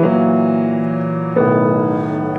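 Piano plays rapid, blurred triplet chords from Beethoven's Opus 2 No. 2, a dense sustained wash of notes that shifts to a new harmony about halfway through, loud and continuous with no speech.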